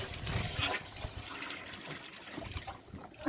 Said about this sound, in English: And then we pour out our bucket of water,